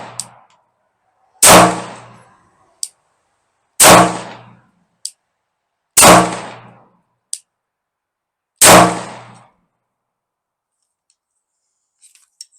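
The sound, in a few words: Gen 2 Glock pistol slow fire with Mec-Gar metal magazine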